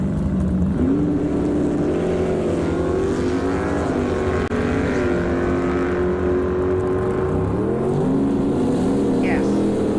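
Drag racing cars, a 1972 Chevy Vega and a 1965 Nova with a 383 small-block stroker, roar at high revs with rising and shifting engine tones. The sound is loud and sustained, and a voice talks faintly underneath.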